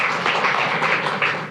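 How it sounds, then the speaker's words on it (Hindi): Audience applause at a Buddhist vihara gathering in Nagpur, a dense continuous patter of many hands clapping close by, fairly loud and even throughout with no talk over it. "जोरदार तालियां।"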